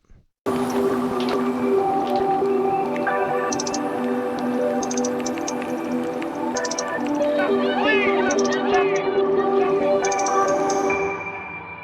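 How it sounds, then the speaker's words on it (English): A dense electronic music track made in FL Studio with sustained tones and chopped, stuttering bursts from Gross Beat automation that give the beat a glitchy, gated feel. "I have this gross beat automation clip, and that makes everything sound kind of glitched out"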